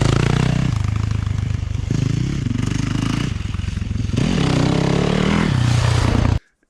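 Motorcycle ridden standing up around a turn track, engine droning loud and close with steady throttle, pitch dipping and rising through the turns, then cutting off abruptly at the end.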